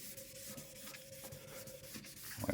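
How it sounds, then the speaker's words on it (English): Painted bodywork is wet-sanded by hand with 2000-grit sandpaper, giving a soft, continuous scrubbing with back-and-forth strokes, quiet and close, with no talking. "So what does sanding with 2000 grit look like?"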